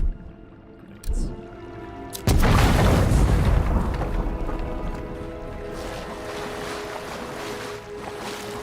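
Grenade blasts in the Avowed video game: a sharp boom, then a heavier explosion that rolls into a long, rumbling roar and slowly fades under lingering ambience.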